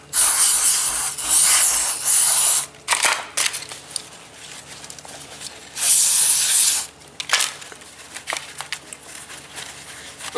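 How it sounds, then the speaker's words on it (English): Bursts of throttle body cleaner sprayed through a thin nozzle tube onto the throttle body of a 3.6 Pentastar engine in a Dodge, Chrysler or Jeep, several loud hissing blasts separated by quieter rubbing and handling noise, no talking. "right here we'll put the little tube so we can spray more directionally where we need it to"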